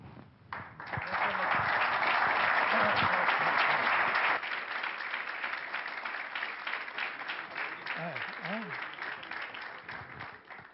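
A seminar audience bursts into sustained applause after a speech, dense clapping building quickly and holding for several seconds before thinning to scattered claps as a speaker's voice returns over it.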